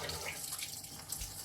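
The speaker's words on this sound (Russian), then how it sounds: "Вот так я сейчас возьму и солью воду." Rinse water from washed cabbage is poured out of a spouted kitchen bowl, making a continuous close splashing trickle that runs without pause for the whole short moment.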